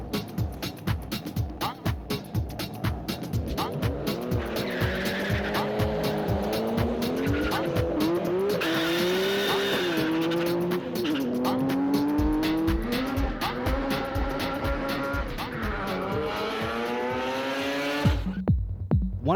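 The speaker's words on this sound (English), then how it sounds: "One of the fastest South Island cars was this black Evo 1." A black Mitsubishi Evo 1 race car tears around a track, its engine loud and close as it revs hard through the gears, with tires squealing and skidding over a sustained run and no talk.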